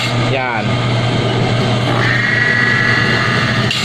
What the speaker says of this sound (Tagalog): Ngayon pipindutin natin yung hawakan ng clutch.